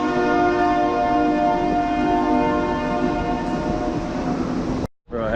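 A train rolls by with a long, loud, sustained horn blast over the rumble of the cars, ending abruptly after about five seconds.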